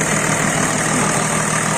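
A Mercedes W124 with an OM606 diesel engine and HX35 turbo idles nearby, giving a steady, dense, rough clatter with no change in pitch and no voices.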